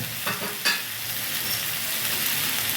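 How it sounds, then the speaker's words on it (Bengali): Mixed vegetables with ginger are stir-fried in a pan, giving a steady, close hiss of sizzling oil broken by a few soft scraping stirs near the start, with no talking. "এখন আমি আদাটা দিয়ে দেবো এক চামচ আদা দিলাম আদাটা দিয়ে আবারও বেশ কিছুক্ষণ কষিয়ে দেবো"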